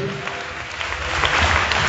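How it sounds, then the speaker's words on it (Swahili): Church audience clapping in praise of Jesus on the fourth day of a prayer camp, a dense wash of many hands that swells slightly toward the end, fairly close and continuous. "Pige Bwana Yesu makofi ya dhabihu."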